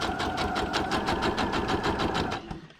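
A sewing machine runs a straight stitch through paper, its needle hammering in a fast, steady rhythm close by, then slowing and stopping near the end.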